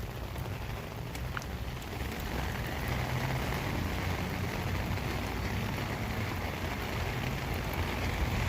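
Heavy rain pours steadily and loudly in Sitka during a walk home, a dense continuous hiss and patter on surfaces with no pauses throughout.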